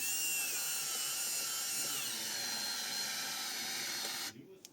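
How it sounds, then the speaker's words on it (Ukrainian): A DWT ASCP-04 cordless screwdriver on its lowest setting drives a screw with a steady, high-pitched whirring motor that stops abruptly near the end. "На першому рівні майже вона закрутила цей гвинт, але трохи їй не, е, трохи сил їй не вистачило"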